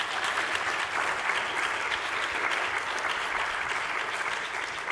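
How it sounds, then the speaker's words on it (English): An audience at a postdoc appreciation event claps steadily for the day's speakers, a dense, even wash of applause that holds at a constant level for the full stretch with no voices over it. "Give them a round of applause."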